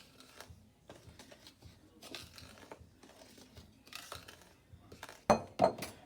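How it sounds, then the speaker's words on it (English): Dry ingredients for zucchini bread are stirred in a bowl, soft scraping and rustling strokes with light clinks of utensil against the bowl, ending in a couple of louder sharp knocks. "I'll just mix the dry ingredients together"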